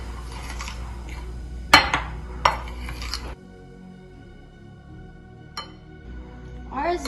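Bounty bites mixture is stirred in a bowl with a metal utensil, sharp clinks and scrapes against the dish in the first few seconds, then a quieter stretch with a couple of soft taps and a final scrape.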